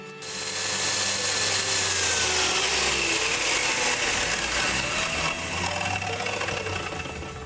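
A power saw cutting Melina hardwood boards for a wooden sign, a loud sustained whining drone that ramps up quickly and holds steady with shifting tonal lines as the blade works through the wood.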